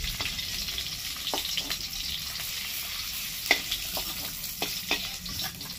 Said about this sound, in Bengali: হ্যাঁ, এই ডিমটা পুরো ভাজা হয়ে গেছে